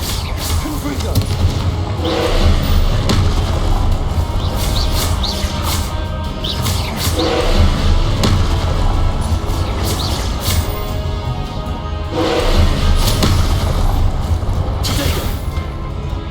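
Fire spells blasting in Hogwarts Legacy combat: loud, dense bursts of explosive crackle and whoosh recur every few seconds over a continuous roar of game music and effects, with voices mixed in.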